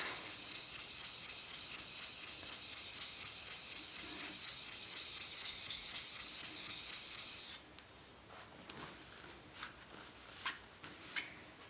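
An old No. 7 hand plane blade being sharpened on a wet grit stone with slurry: rapid, even back-and-forth scraping strokes, close and steady, then a slower stretch of lighter rubs and a few sharp clicks.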